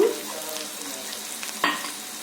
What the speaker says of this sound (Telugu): దంచుకున్న వెల్లుల్లి రెబ్బలు, కారం వేసుకోక ముందే వేసుకోవాలండి, అప్పుడే కొంచెం ఆయిల్లో మగ్గుతాయి